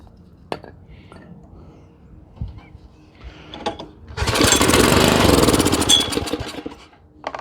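A small engine fed with carburetor cleaner catches and runs loud and close for a couple of seconds, then dies away. Quieter clicks and handling noises come before it.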